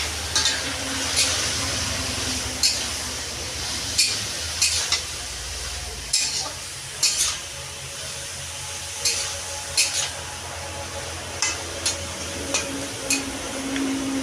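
Pumpkin stems sizzle steadily while frying in a pan for a home-style Bengali chorchori, with regular sharp ticks and scrapes of a spoon stirring against the pan recurring throughout, close and fairly loud.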